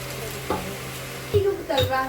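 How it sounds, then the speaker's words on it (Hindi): Pakoras deep-fry in hot oil in a home kitchen, giving a steady close sizzle and bubbling hiss with a few light utensil knocks and a brief voice in the background. "अब मैं पकौड़े इसमें तलना शुरू कर देती हूँ।"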